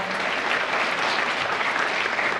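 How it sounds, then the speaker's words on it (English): Dense, steady applause from a crowd at a middle school National Honor Society induction ceremony, loud and continuous throughout. "Let's give her a big round of applause."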